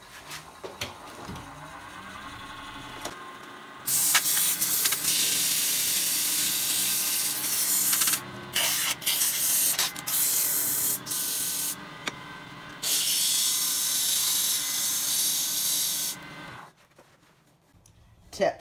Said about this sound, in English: Now I'm just going to give it a rough sand